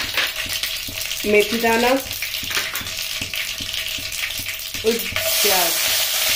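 Mustard seeds, cumin, curry leaves, carom seeds and whole dried red chillies crackle and sizzle steadily in hot oil for the rasse wale aalu tempering, with a short stretch of speech over the frying.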